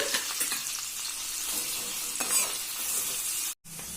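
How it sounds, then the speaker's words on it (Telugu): Sliced onion and green chillies sizzling in hot oil in a kadai, a steady, close frying hiss with occasional stirring scrapes, cut off briefly near the end. "ఫస్ట్ కట్ చేసుకున్న ఆనియన్ పచ్చిమిర్చి వేసుకొని బాగా ఎర్రగా ఫ్రై చేసుకోవాలండి"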